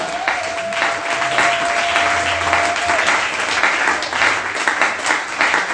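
Congregation applauding inside a church during a French-language worship service, a dense, steady wash of clapping from many hands filling the room, with a faint sustained tone underneath.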